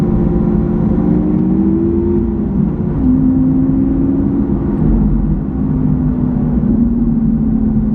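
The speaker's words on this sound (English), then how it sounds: "So fast for a single clutch gearbox. That downshift is pretty instant." Lamborghini Aventador with a single-clutch gearbox, its engine droning loudly and steadily with pitch sweeping up and down through a quick downshift, close and continuous throughout.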